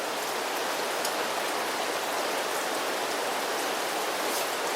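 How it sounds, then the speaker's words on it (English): Water at a hard rolling boil for an MRE beef taco meal, a steady dense bubbling hiss held at an even level throughout, close and continuous with no talk. "So we're actually at a boil. Well, we're at a hard bubble."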